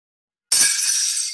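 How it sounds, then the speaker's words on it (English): A plate smashes on a hard surface, a sudden loud crash followed by a bright glassy shatter that rings and rattles briefly before the end. "It's a broken plate, right? When glass breaks, it makes a sound."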